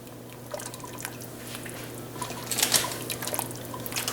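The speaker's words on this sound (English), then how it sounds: "I'm going to keep stirring that cheese in." Gorgonzola cheese is stirred into a creamy casserole sauce, giving soft wet squelching and sloshing from a spoon over a low steady hum, growing busier toward the end.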